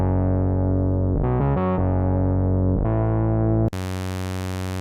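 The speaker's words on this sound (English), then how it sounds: "we're going to make a bass sound." A sustained synthesizer bass tone with a few quick note changes in the middle, then an abrupt switch to a brighter, buzzier held note near the end.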